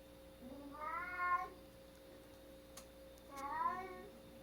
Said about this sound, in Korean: 말을 하고 싶다는 식으로 야옹야옹 거리네요